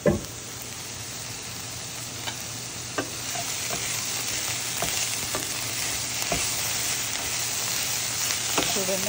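Amaranth leaves fry with pounded onion-chili paste in a pan, a close steady sizzle broken by scattered scraping ticks of a spoon stirring, with no voices.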